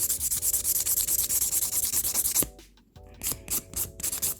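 A straight nail file scraping back and forth over a gel nail extension in a quick, steady rhythm of close, raspy strokes, pausing briefly midway before resuming.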